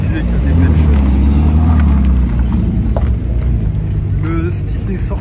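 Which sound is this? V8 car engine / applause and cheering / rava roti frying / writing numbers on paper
V8 car engine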